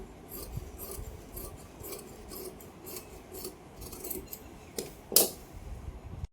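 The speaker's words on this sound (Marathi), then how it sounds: "अशा पद्धतीने मी ते कट करत आहे पूर्ण अस्तर" Scissors cut through the lining fabric of a velvet blouse, a series of soft, close rasping snips in an irregular rhythm, ending with one sharper metallic snap near the end.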